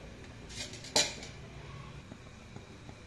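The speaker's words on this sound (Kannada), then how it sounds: "ಸ್ಟವನ್ನು ಹಚ್ಚಿ ಚಿಕ್ಕ ಪಾತ್ರೆ ನೀಡಿ" A small metal pot is set onto a lit stove, giving one sharp clank near the start. Faint clatter and quiet kitchen hum follow.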